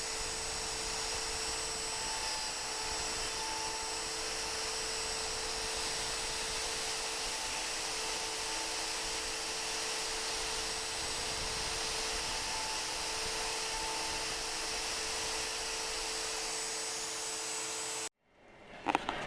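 A CNC router cutting wooden side pieces drones steadily with a high whine and constant hiss for nearly the whole stretch, then cuts off abruptly near the end.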